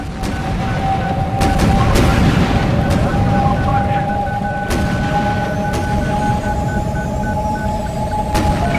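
Boarding combat aboard a ship in the space game X3 Albion Prelude: a steady loud bed of battle noise with sharp gunfire-like cracks and booms scattered throughout, over a constant electronic hum and tonal alarm-like drones.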